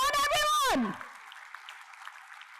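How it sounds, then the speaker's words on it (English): At the inaugural session of a valuation summit, a voice speaks briefly before the audience answers with a round of applause, a softer and steady patter of many hands that continues to the end. "can we have a big round of applause for yourself?"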